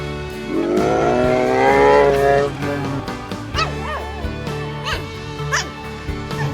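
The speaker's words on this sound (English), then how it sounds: "Dog." A dog barks and yips several times in quick succession, close and loud, with a rising whine early on and faint traffic noise underneath.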